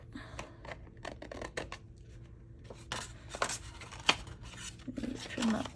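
Scissors trim the edge of a paper craft piece with a series of quiet, close snips and light paper rustles, leaving small scraps, under faint room noise.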